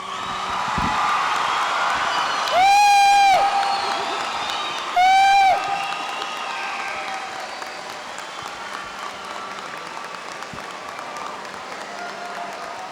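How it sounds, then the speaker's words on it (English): An audience in a banquet hall applauds and cheers the graduating high school class of 1994 at an academic awards event. Steady crowd clapping runs throughout, broken by two loud, sharp whistles or whoops. "Let's give them a big round of applause."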